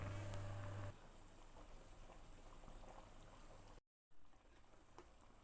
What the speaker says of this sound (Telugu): ఈ పోసుకున్న వాటర్ అంతా మసిలేదాకా మసలు పెట్టుకోవాలి.